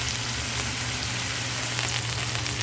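Chicken breast and onion frying in a pan for pancit, a steady close sizzle with a dense, even crackle and no one talking.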